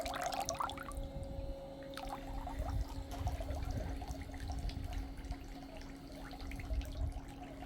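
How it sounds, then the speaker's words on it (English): Water begins running through the plumbing of a solar-powered pool heater as the pool pump starts. A steady rush and trickle of flowing water continues throughout under a constant low pump hum, with a few sharper splashes and clicks near the start. "we'll turn this over and the pump will start flowing."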